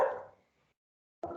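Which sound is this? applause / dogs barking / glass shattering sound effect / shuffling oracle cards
dogs barking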